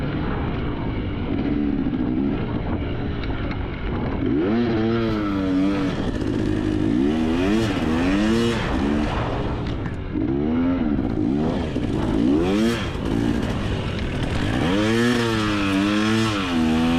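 A race motorcycle at a scramble race revs repeatedly, its engine note swooping up and down in sharp bursts over a constant mechanical drone, loud and fairly close.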